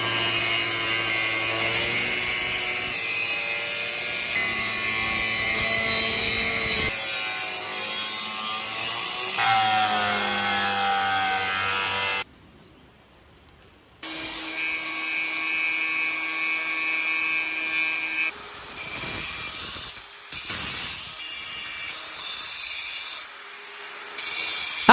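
Sheet metal is cut into a small square with a power tool, producing a loud, sustained, whining grind with shifting pitch and a brief break in the middle before the cutting resumes.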